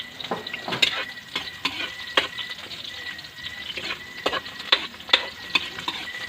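Mussels sauté in a pan with garlic and ginger, sizzling and crackling steadily while a utensil scrapes and clicks against the pan in irregular bursts, close and alone.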